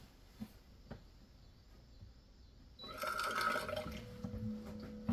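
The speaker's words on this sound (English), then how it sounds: "I'm going to dispense some water." Quiet room tone, then water starts running from a Water First countertop reverse osmosis system into a glass, a steady splashing pour with a faint whine from the machine.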